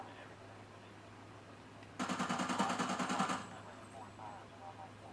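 A rapid automatic weapon in a Call of Duty: Ghosts hardcore team deathmatch fires one tight burst of about a second and a half, loud and sharply pulsing over faint background hum.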